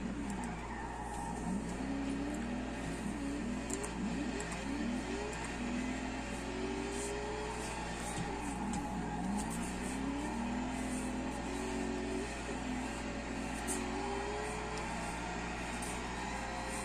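A 1,500hp Tokyo Drift Mustang in Forza, engine droning and revving steadily while tires squeal through a long e-brake drift, constant and loud with no talking.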